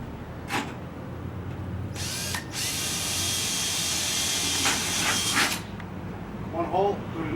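A power drill bores a hole for aluminum pan head screws during concrete and gutter repair work, a loud sustained whine lasting a few seconds after a brief first burst, with a voice speaking briefly toward the end.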